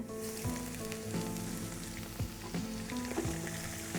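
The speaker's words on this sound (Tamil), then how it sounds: "ஆனியன் நல்லா ஃப்ரை ஆகிடுச்சு" Onions fry in a pan with a dense, steady sizzle and crackle close up, while a tonal musical backing plays underneath.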